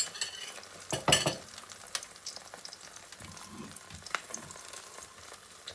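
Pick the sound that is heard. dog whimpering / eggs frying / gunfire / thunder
eggs frying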